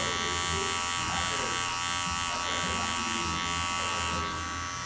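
An electric hair clipper with a one guard, opened to about a 1.5, buzzes steadily and closely while cutting hair for a taper fade, with a person talking over it.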